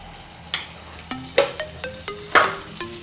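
A teaspoon of butter in a kadai at the start of a pav bhaji recipe: a quiet sizzle with repeated sharp scrapes and clinks of stirring, about seven strokes, close by, with no talk.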